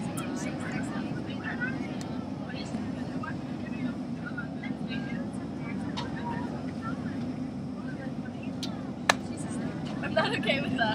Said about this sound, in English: So yeah, we're on a plane right now.